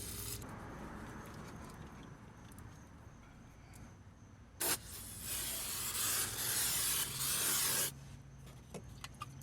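Brake cleaner hisses from an aerosol can onto the brake rotor of a Kia Rio during a rear brake and rotor job. Short spray bursts punctuate a faint background, then one long loud blast runs for about three seconds before ending in a couple of quick taps.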